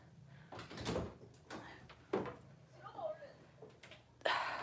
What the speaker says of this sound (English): I gotta open this door, guys.